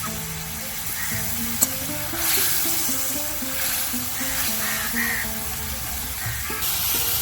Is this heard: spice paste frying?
yes